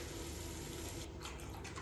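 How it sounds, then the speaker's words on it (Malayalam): Thin coconut second milk, half a cup, pours steadily into a pan of sautéed spices for Kerala egg mappas, a soft continuous liquid rush heard faintly and alone. "ഒരു തേങ്ങയുടെ 1/2 കപ്പ് രണ്ടാം പാൽ"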